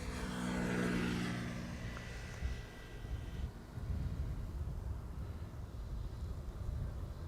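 A KLM passenger airliner, flight 610, landing at Schiphol: a distant jet roar swells and fades into a broad rumble, picked up by an outdoor microphone with no talking.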